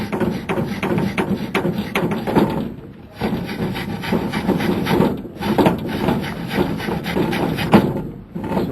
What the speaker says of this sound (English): Take a wire brush. Make sure that there's none of the old sealant left on the casing.